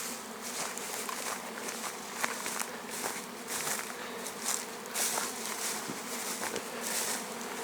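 Honeybees swarm out of the hives at an apiary in a dense, steady buzzing hum that fills the air, with faint scattered rustles and no talk.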